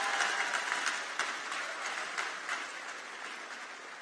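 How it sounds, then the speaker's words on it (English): A graduation ceremony crowd gives a broad, rustling round of applause that starts moderately loud and gradually thins and fades over about four seconds, with no talking on top. "So please give them a round of applause."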